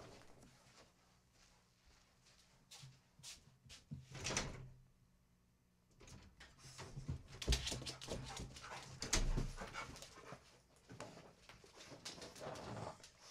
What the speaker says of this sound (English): you see Pluto trying to open the door?